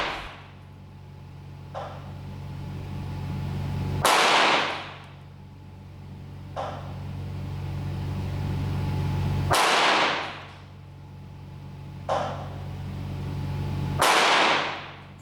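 Three sharp, loud gunshots from cheap bulk Winchester ammunition ring out at even intervals, each with a booming report and decaying echo, between fainter clicks over a steady low hum.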